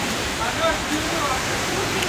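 Heavy rushing water roars steadily and loudly at a very wet spot in Meghalaya, a constant broadband torrent with no breaks.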